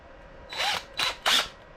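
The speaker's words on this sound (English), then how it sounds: "now what I have is an 1/8" drill bit, and I'm gonna go ahead" Three short bursts of a power drill driving an 1/8 inch bit, close and fairly loud, each roughly a quarter second long with brief pauses between.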